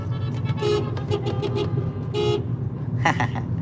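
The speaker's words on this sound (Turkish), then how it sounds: "gelin arabası geliyor" A wedding car arriving on a street, honking repeatedly: several short toots and one longer blast over a running engine and traffic rumble, with a clustered burst of honks near the end.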